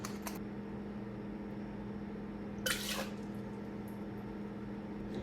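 Vodka pours for a cocktail in one brief, splashy gush of liquid against a steady low room hum.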